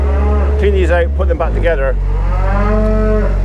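Cattle in a barn moo loudly and close by, long drawn-out calls over a steady engine hum, with someone speaking briefly between them.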